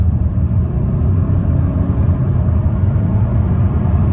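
A Mazda 2.2 diesel Skyactiv car with a newly replaced turbo drives along with a loud, steady low engine and road rumble and no talking.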